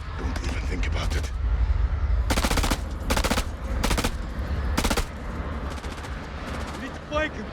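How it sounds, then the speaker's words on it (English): Gunfire in the video game House of Ashes: several loud automatic bursts in quick succession, each a sharp rattling volley, over a constant rumbling battle backdrop. "Too busy firing my endless stream of bullets that I clearly never have to reload."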